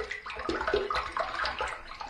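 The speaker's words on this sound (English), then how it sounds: "this brush here, I'm just going to swirl in the sink there a little bit to get it wet." An olive wood shaving brush is swirled in water in a sink, giving soft sloshing and trickling splashes that continue briefly and close by.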